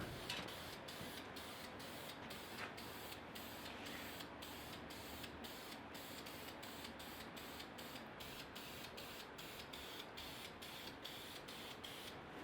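A spray gun lays clear coat on a Honda Grom motorcycle subcage, giving a faint, continuous hiss broken by regular short gaps as the trigger pulses in a quick, even rhythm.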